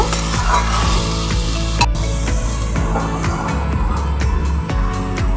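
Bottle gourd pieces fry in a pan with salt and turmeric, a loud steady close sizzle broken by occasional scrapes and knocks of a stirring spatula.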